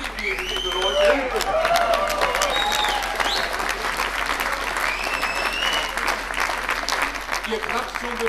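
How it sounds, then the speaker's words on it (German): A German reception crowd applauds steadily for several seconds, dense clapping with scattered cheers and voices mixed in, fairly close and sustained. "Ihr klatscht schon, bevor ich überhaupt den Namen genannt habe."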